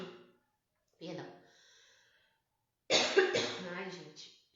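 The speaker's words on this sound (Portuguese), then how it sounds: "Começa a falar, me dá pigarro." A throat clearing, short rough bursts with a pause between them, then a louder coughing clear, close up and with no talking.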